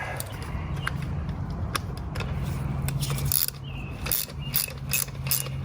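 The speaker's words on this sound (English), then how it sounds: "We're just going to compress them with the tools here." Spring compressor tools being tightened on BMW 340i xDrive coil springs, giving close mechanical ratcheting clicks and scattered metallic ticks over a low steady hum, moderately loud, with no talking.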